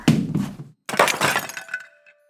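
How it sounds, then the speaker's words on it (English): A clay jar knocked over and shattering into many pieces: a loud sharp crack and breaking burst, a brief gap, then a second clattering crash of scattering shards that rings and fades out. "The loud crack rang throughout the village as the clay jar shattered into many smaller pieces."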